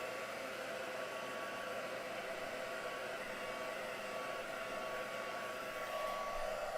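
A handheld dryer blows steadily on a craft project, a constant loud whooshing hum with a faint whine, close and unbroken, no talking.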